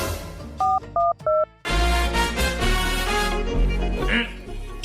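A quick series of telephone keypad tones, a few short beeps in succession, followed by a loud, busy stretch of music.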